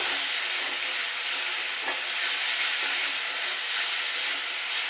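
Fish curry with bottle gourd greens and a pinch of sugar sizzles steadily in a pan while being stirred, a dense, even frying hiss with faint scrapes, close and unbroken, without voices.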